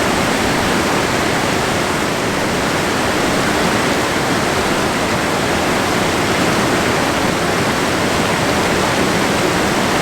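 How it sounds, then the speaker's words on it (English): A wilderness river running between Four Creeks Lake and the lake below, its rushing water a loud, dense, unbroken roar close by for the whole stretch. "This is the river between Four Creeks Lake and the lake below."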